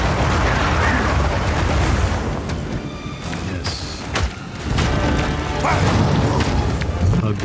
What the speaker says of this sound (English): Ghostly cannons. That's cool.